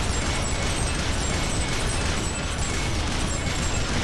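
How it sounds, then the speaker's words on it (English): Dense, continuous roaring blasts from hand cannons and explosions in the Earth Defense Force 5 video game, a loud, unbroken wall of booming noise with no clear gaps. "Just gonna shoot blindly."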